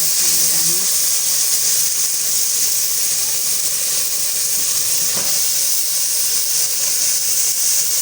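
Moongray vegetables going into a hot pan, giving a steady close hiss and sizzle throughout with no voices.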